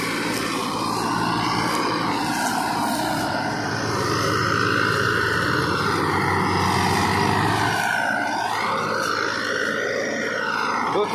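A Mahindra Yuvo four-wheel tractor hauls a heavy sugarcane trolley at night with help from a Farmtrac tractor. Its engine gives a loud, steady, close drone that continues unbroken and without talk for the whole stretch.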